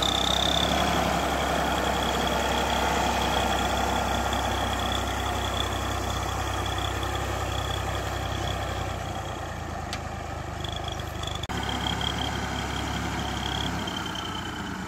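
A Massey Ferguson IMT 533 tractor pulling a two-bottom reversible plough in low gear, its steady engine drone holding loud and continuous throughout with no talking.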